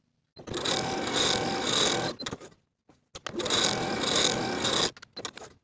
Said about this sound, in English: Sew basting stitches along the top of your sleeve from outer dot to outer dot